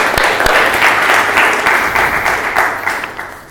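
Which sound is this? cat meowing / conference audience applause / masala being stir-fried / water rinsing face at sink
conference audience applause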